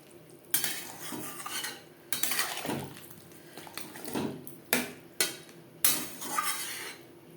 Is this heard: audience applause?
no